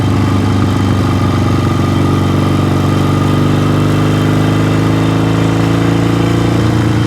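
A vintage Yamaha 650 twin motorcycle engine rumbles steadily close up while downshifting, a loud continuous throbbing drone whose pitch slides as the revs change, with wind noise and no talk.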